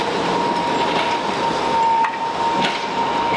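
A double-decker tram rolls through the streets of Lviv, Ukraine, with a steady close rumble of wheels on rail and a thin, constant whine over it, plus faint clicks. No one speaks.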